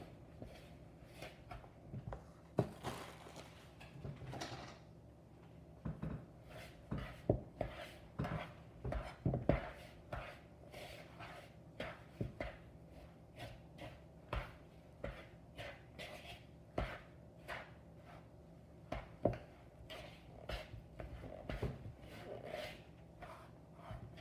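Gluten-free cornbread batter being mixed in a skillet, heard as close, irregular clinks, knocks and scrapes of a utensil against the pan, with short bursts and pauses and no talking.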